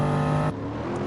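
Race car engines in a PS4 racing game give a short, loud, buzzing high-revving drone. The pitch drops abruptly midway as the car shifts or passes.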